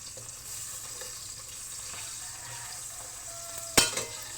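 Dried fish (bulad) sizzling in a pan, a steady crackling fry throughout with a sharp clatter of a utensil near the end and no talk.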